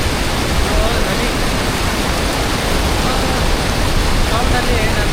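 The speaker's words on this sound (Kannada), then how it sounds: "ಮಿನಿ ವಾಟರ್ಫಾಲ್ ನೋಡಿ ಹೆಂಗೈತೆ." A mini waterfall on the Kaveri near Mahadevapura pours in a loud, steady, close rush of falling water, unbroken throughout with no talk.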